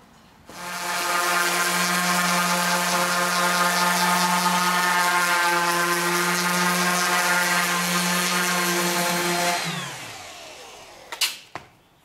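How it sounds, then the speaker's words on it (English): Electric sander working rough old barn wood boards, a loud steady whine with a strong tonal drone running continuously for about nine seconds before spinning down, followed by a couple of sharp clunks. "I'm working this front edge with the sander, not a router"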